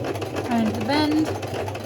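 A domestic sewing machine stitches elastic onto a fabric bookmark, its motor whirring steadily throughout while a voice talks over it.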